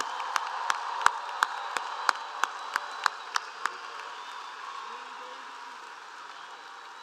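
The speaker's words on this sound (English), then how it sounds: "Another round of applause for our graduates" Audience applause for graduates at a spring bachelor's and master's graduation ceremony. A row of sharp, separate claps rings out at first, then dies away into a low, hollow hall ambience.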